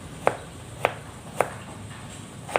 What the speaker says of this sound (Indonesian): kita potong-potong tipis-tipis seperti ini aja.